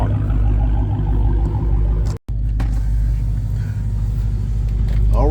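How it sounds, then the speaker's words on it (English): Dodge Hellcat engines rumble deep and heavy at an outdoor car meet, a continuous throaty idle with slight swells and a brief cut midway, close and loud. "listen to the Hellcats"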